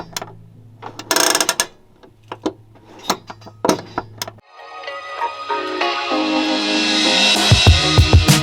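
Gear linkage of an Infiniti G37 converted to manual clicks and clunks through several engagements, then gives way to a rising mechanical whir and a final rattle, close and fairly loud.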